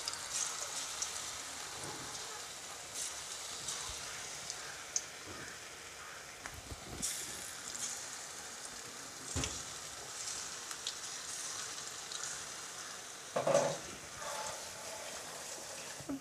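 Pokkuvada batter pieces deep-frying in hot oil, thattukada style, with a steady crackling sizzle that keeps going throughout, plus faint clinks now and then and a brief louder burst near the end.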